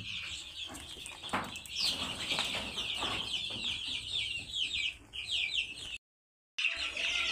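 Young chicks of a large hill chicken breed cheep continuously in high, rapid chirps, with occasional clucks from older birds nearby, fairly close and moderately loud, with a brief gap of silence near the end.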